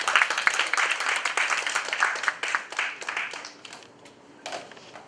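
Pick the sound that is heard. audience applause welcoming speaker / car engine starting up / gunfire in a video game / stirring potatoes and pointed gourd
audience applause welcoming speaker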